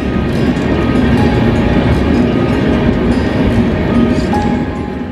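Howrah-Barbil Jan Shatabdi Express train running on the rails, a loud, steady rumble and rattle that fills the whole stretch without letup and has no voices over it.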